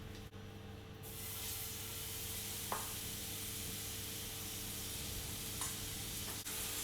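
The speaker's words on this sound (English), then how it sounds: "I'm going to roll these into sort of golf ball size little goons, and I'm going to drop them straight into the pan." Golf-ball-sized beef meatballs frying in olive oil in a pan make a continuous close, even sizzle and hiss, with a couple of soft clicks from the pan.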